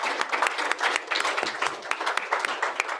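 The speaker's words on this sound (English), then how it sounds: "let's have another round of applause for our 6 excellent speakers" Audience applause after a scientific talk on dark matter halos, a moderately distant, continuous patter of many hands clapping with no speech over it.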